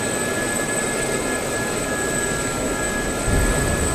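Simulated SA-342 Gazelle helicopter in DCS, rotor and turbine under stress, a steady whirring roar with high whining tones, rising into a heavier rumble near the end.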